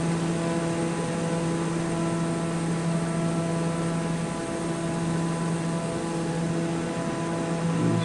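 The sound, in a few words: aircraft flying in the video game Microsoft Flight Simulator 2024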